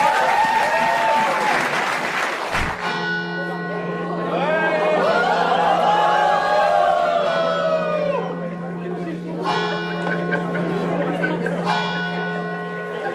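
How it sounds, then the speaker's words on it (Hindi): Audience applause at a live comedy game show taping, a steady wash of clapping from a crowd filling the whole stretch, with a sustained tone and some voices heard alongside it. "ताली बजाएं, एक बार round of applause"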